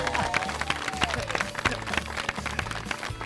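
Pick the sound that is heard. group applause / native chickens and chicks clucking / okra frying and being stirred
group applause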